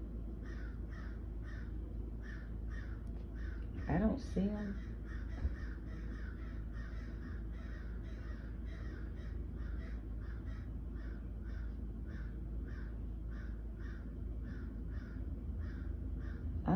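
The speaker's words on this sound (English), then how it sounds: "there's some crows in the back being loud as hell" A group of crows caws repeatedly outdoors in the background, a steady run of harsh calls lasting throughout at moderate distance, while a person speaks briefly partway through.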